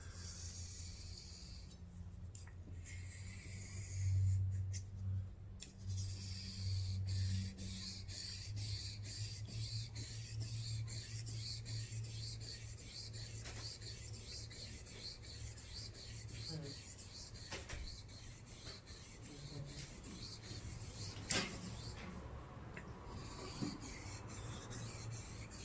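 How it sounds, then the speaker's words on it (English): A knife blade scrapes back and forth on a flattened Washita whetstone as a bevel is put on it, a steady close rasping rub that continues for the whole stretch with short pauses and no speech. "we can proceed to put a bevel on this blade"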